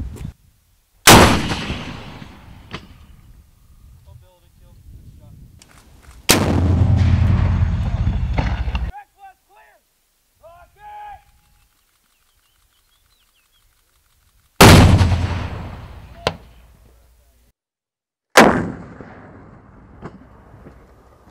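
Rocket launchers fire during military combat training, each launch a loud sharp blast with a long rumbling tail. Four separate shots ring out close by, with brief quiet spells between them.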